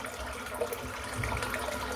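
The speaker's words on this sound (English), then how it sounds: "Just fill the sink up." Water runs from a tap into a sink, a soft, steady rushing and splashing at low volume that continues throughout.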